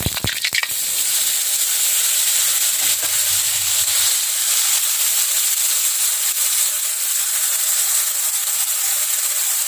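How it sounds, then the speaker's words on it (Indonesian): Ground spice paste hits a hot pan with a brief clatter, then gives way to a steady, close sizzling hiss of frying that holds evenly to the end. "kita masukkan bumbu yang kita haluskan"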